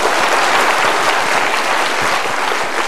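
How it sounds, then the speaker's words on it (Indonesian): Loud, dense applause from a seminar audience, a continuous close wash of many hands clapping at once that holds steady for the whole stretch without any speech over it. "Tepuk tangan boleh."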